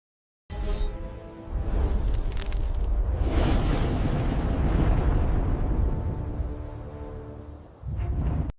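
A huge blast erupts and rolls on as a long roaring, rumbling explosion with a whooshing wave, loud and sustained for several seconds, followed by a shorter second burst.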